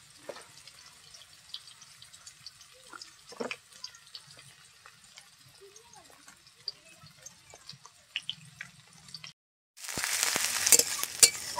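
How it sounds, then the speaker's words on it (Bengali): Soft sizzling and crackling of onions frying in oil in a pan, quiet and steady, with small clinks and stirring noises, then a louder hiss near the end. "পেঁয়াজটা আমি এইভাবে ভেজে নিয়েছি।"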